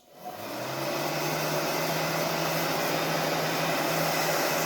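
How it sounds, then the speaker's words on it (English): A heat gun warms the rubber carburetor boots on a 1982 Kawasaki KZ750 motorcycle that had been sitting for years, producing a steady, close, loud blowing whir with a low hum that starts up and holds constant. "I'm going to go ahead and take our heat gun and just heat up the boots"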